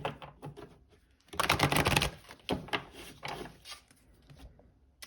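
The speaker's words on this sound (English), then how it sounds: "Okay, we'll do one last shuffle." A quick riffle of an oracle card deck, a burst of rapid flapping, followed by a few softer shuffling and tapping sounds close by.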